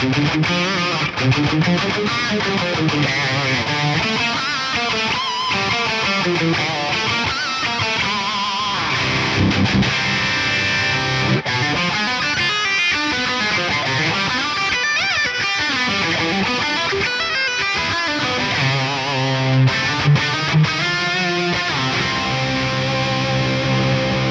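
A high-gain distorted electric guitar plays a continuous riff through a signature amp plugin with added delay and long-tailed reverb, loud and dense throughout with no talking.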